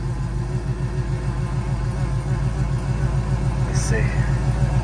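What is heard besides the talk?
Oldsmobile engine running at high idle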